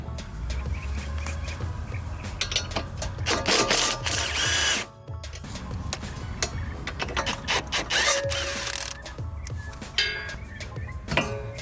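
A power tool loosens the rear shock screws on a 1999–2004 New Edge Mustang GT, sounding as repeated close ratcheting, whirring bursts with short pauses between them.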